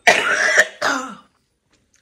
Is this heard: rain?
no